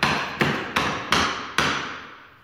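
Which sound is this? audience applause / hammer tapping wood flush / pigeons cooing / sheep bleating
hammer tapping wood flush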